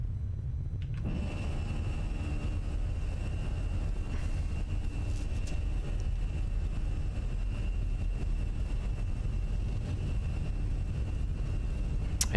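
Inside the cabin of an Airbus A320 in a flight simulator game during takeoff, a steady low engine rumble and hum fills the space, starting abruptly and holding constant throughout with faint clicks, no talking.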